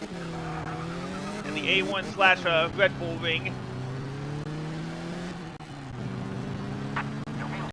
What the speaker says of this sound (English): Your wheel spun there because your revs are too high.